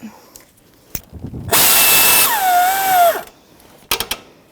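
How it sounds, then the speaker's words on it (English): A power tool with a socket snugs the AC condenser mounting bolts on a 2007-2017 Jeep Patriot 2.4L in one loud, whining run of about a second and a half, with scattered clicks and handling knocks around it. "Let's put our two mounting bolts in. Start it. I'm going to get my socket,"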